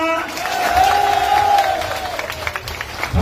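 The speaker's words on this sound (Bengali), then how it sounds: "একবার হাততালি দিবেন না?" A crowd at a BNP discussion rally in Meghna upazila, Comilla, marking Zia's death anniversary claps and cheers in a loud, sustained wash of applause that gradually thins, with a voice carrying over it.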